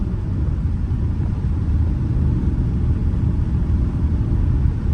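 A Dodge Scat Pack with a catless exhaust pulls hard, its deep, steady rumble droning loudly and continuously with no voices over it.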